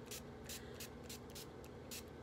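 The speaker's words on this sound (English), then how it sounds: "I like to spray my face generously with that." Face setting spray misted from a pump bottle, several short sharp hissing bursts in an irregular rhythm, close and quiet, no voices.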